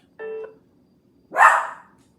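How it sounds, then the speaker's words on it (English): A small dog named Tinkerbell barking indoors, a short whimpering yip followed a second later by one louder, sharp bark, close and alone in quiet surroundings. "Dog's name Tinkerbell."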